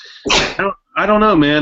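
A person's sneeze during a sports radio show, a sharp burst followed by a brief break, then someone talking on mic afterward.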